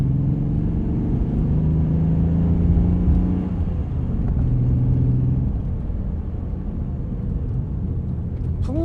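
Air-cooled 3.6-litre flat-six of a Porsche 911 964 Carrera 4 rumbling steadily from inside the car, with a deep throbbing note that rises and eases slightly, and a brief clatter near the end.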